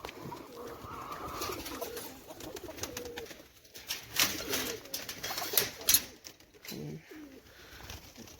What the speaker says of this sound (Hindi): ये देखिए कबूतर